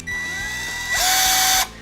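A Ryobi ONE+ 18V cordless drill driver, model R18DD2, whirs steadily and then steps up to a louder, higher-pitched whine for about half a second before cutting off, heard close and alone.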